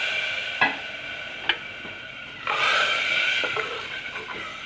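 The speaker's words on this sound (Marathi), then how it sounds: "एकदा हलवून घेऊ" A spoon stirs vegetables and water in a cooking pot, with a couple of sharp knocks against the rim and a swirling, sloshing stir that swells midway, close and alone.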